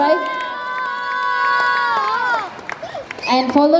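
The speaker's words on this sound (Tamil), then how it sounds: "ஒரு பெரிய கைத்தட்டலோட வெல்கம் பண்ணிடலாம்" At a children's dance studio showcase, an audience erupts in cheering, with children's shouts and a few claps rising under a sustained voice and bursts of excited calls.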